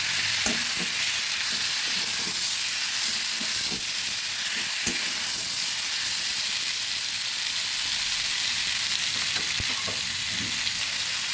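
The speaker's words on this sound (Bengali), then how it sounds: "ভালোভাবে নেড়ে এবার জল দিয়ে দেবো।" Snake gourd and egg are stirred and fried in a pan, giving a loud, continuous hiss and sizzle up close, with scattered scrapes and taps of the spatula throughout.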